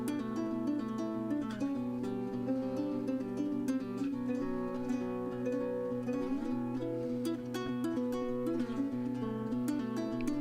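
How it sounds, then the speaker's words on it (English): A nylon string guitar plays a bouncy plucked melody over a steady accompaniment with light percussive ticks, even and moderately quiet throughout, no voices. "it's a nylon string guitar and it's really holding down the fun little melody"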